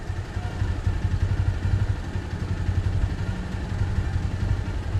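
A Zomato delivery rider's motorbike in Kochi gives off a low, steady engine rumble, close by and unbroken, with no speech over it.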